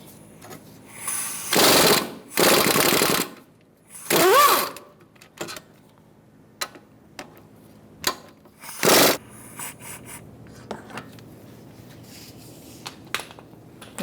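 A socket wrench with a 15mm socket works the brake caliper bracket bolts on a Ford Taurus, giving several short ratcheting bursts separated by quiet gaps and a few small clicks.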